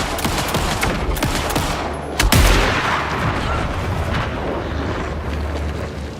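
Dense volley of heavy gunfire in the horror game Alan Wake 2, loud and continuous with one sharp, booming blast near the middle, no voices.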